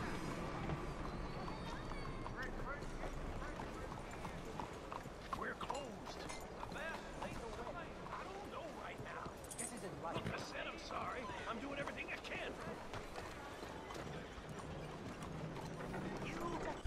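Horse hooves clip-clop steadily through a busy Red Dead Redemption 2 game soundscape, with mechanical clicks and a voice talking over the top.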